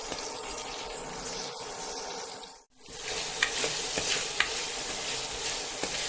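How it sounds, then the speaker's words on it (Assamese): A pre-mixed spice paste fries on low heat in a pan for an egg curry with lentils, giving a steady crackling sizzle with stirring scrapes. There is a brief dip near the middle before it resumes at a similar level. "মিক্স কৰি ৰখা মছলাখিনি দি দিম যেতিয়ালৈকে মছলাৰ কেঁচা ভাতটো নাযায় তেতিয়ালৈকে মই এইখিনি কম জুইত ভাজি ল'ম"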